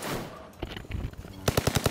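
Video game gunfire, likely from double-barrel shotguns, comes as fast, loud repeated shots in a rhythmic burst toward the end, after softer thuds and clatter.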